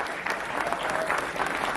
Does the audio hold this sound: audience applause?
yes